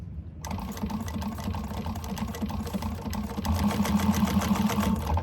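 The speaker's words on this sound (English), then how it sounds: "you're going to top stitch along here on the lining piece" A sewing machine top stitches along the lining piece of a fabric candy bag, starting with a click and then running in a steady, fast mechanical chatter that grows slightly louder near the end.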